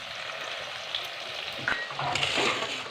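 Ginger, garlic and green chili paste sizzles and fries in a pan, a loud steady hiss broken by a few stirring scrapes and crackles.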